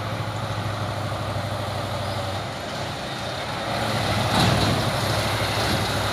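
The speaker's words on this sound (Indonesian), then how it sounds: "Trailer menurun bosku. Trailer balap." A loaded trailer truck rolls downhill on a road with a steady, loud engine drone and road rumble that swells slightly toward the end, with no talking.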